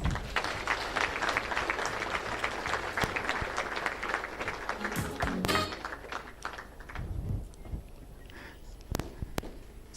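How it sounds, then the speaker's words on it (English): A launch event audience gives a round of applause, dense clapping that holds for about five seconds, then thins into scattered claps, thumps and a few louder isolated hits. "A round of applause."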